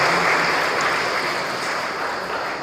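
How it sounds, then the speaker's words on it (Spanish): Guests applaud the newlyweds at a church wedding ceremony in Ameyaltepec, a steady wash of clapping held at an even level throughout with no talk over it. "Un aplauso, por favor, a este matrimonio,"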